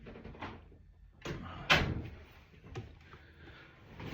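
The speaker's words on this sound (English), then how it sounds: "let me close my door" A door is pushed shut indoors with a soft thud and latch click among quieter handling knocks, faint and close.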